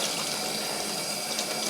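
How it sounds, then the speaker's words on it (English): Cold tap water runs into a sink in a steady, even rush while a dyed t-shirt is rinsed under it, close and continuous with no breaks. "this is just cold water at the moment that I'm rinsing the t-shirt through"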